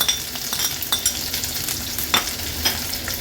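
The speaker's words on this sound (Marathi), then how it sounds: "लसणाच्या पाकळ्या तेलावर थोड्याशा परतून घेते" Crushed garlic cloves and chopped onion fry steadily in hot oil, a continuous close sizzle broken by soft stirring scrapes in the pan, with no voices.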